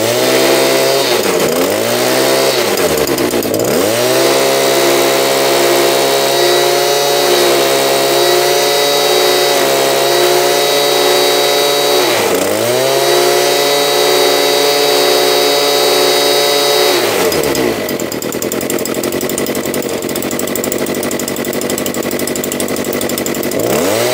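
A two-stroke engine runs loud and close during a cold carburetor test. It holds a high, buzzing rev and drops sharply a few times before climbing back, then settles into a rougher, lower drone near the end.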